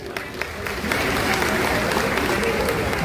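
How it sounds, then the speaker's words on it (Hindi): Audience applause greeting a minister at a tribal pride conference, steady dense clapping from a crowd building and holding at full strength throughout, with a voice faintly audible underneath. "हम सब ताली बजाकर उनका हार्दिक अभिनंदन करते हैं, स्वागत करते हैं।"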